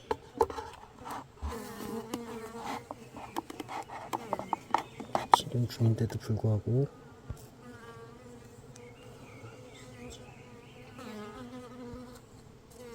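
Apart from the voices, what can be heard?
Korean native honeybees buzzing around hives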